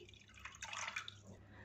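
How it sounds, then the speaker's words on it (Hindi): Water drips and trickles into a chicken ball batter mixture for a few moments, a soft close splashy pour with no talk. "इसके लिए 100 ml आधा कप पानी शामिल कर देंगे"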